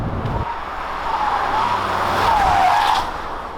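A 2021 Ssangyong Rexton turbodiesel accelerating in sport mode with its 8-speed automatic, a loud engine drone rising in pitch over a few seconds, with a brief tire squeal near the end and no one talking.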